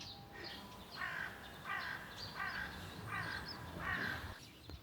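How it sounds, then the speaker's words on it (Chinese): A crow caws in a repeated series of harsh calls, five or six in a steady rhythm, at moderate distance on an otherwise silent, deserted street in Sukumo, Kochi, Shikoku. "就只能听到鸟叫声。"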